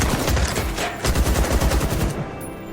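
Rapid bursts of rifle fire from a prototype AK-47 being test-fired at a rusty barrel target, loud, close and sharp shots in quick succession, fading out at the end.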